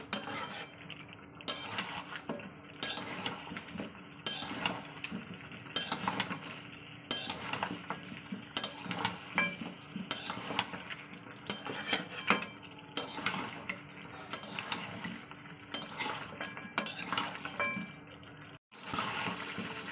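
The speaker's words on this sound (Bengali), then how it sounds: "এখন একটু কষিয়ে নেবো দু থেকে তিন মিনিট আমি কষাবো" Meat with bottle gourd and potato being stir-fried in a pan, a spoon scraping and clinking against the metal in a steady repeating rhythm over a soft background sizzle, close and moderately loud, with no talk.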